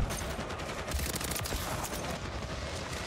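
Dense, continuous automatic gunfire in Call of Duty MW3 as players shoot at an airborne killstreak, a loud sustained fusillade with overlapping bursts and no talk.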